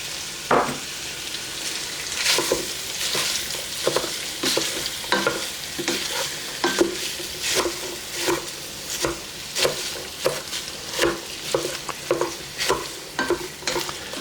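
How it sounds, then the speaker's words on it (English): Chopped small onion frying in grease in a soup pot for Zuppa Toscana, a steady close sizzle broken by regular scraping stirs of a utensil against the pot every second or so, with no voices. "I'm going to go ahead and add the onion to it"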